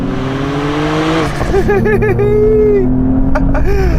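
A Porsche 911 Sport Classic accelerating hard out of a tight turn, its engine revving up through rising pitch with a quick shift and climbing again, loud and close, with a brief voice over it.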